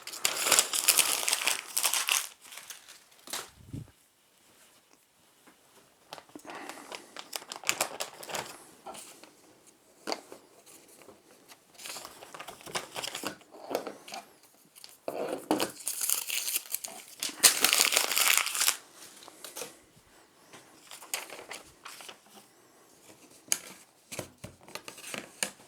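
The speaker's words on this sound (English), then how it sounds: "Now let's cut the pattern out." Scissors snip and crinkle through paper while cutting out a drafted shorts pattern, in irregular bursts of crisp rustling with quiet gaps between cuts, close up and alone.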